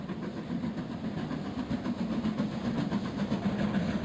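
Steady rhythmic clickety-clack of a passing train on rails in the Transport Fever game, a continuous rumbling roll with regular wheel-joint clatter, moderately loud and without speech.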